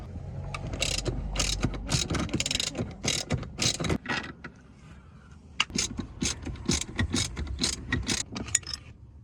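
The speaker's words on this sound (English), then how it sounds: "Go ahead and remove your center buckles with T50 torque screw." A hand ratchet clicks in rapid bursts of strokes, close and loud, while T50 Torx screws are backed out of the rear seat belt buckles of a BMW E60.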